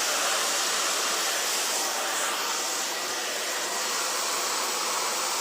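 A hair dryer fitted with a diffuser dries curly hair, giving a loud, constant rushing blow of air close by that holds steady throughout with no speech.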